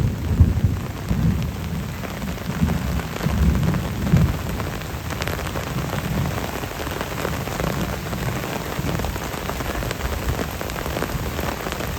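Heavy rain pours in a dense, even patter while low thunder rumbles through the first few seconds, then the downpour carries on alone without voices.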